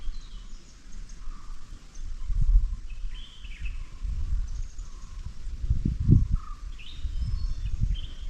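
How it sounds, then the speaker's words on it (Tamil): Sparrows and other birds chirping in the quiet hillside village of Koppaiyur, with faint scattered chirps over a low rumbling background of wind and ambience. "அதாவது குருவிகளோட சத்தங்கள், பறவைகளோட சத்தங்கள்லாம் நிறைய கேட்குங்க."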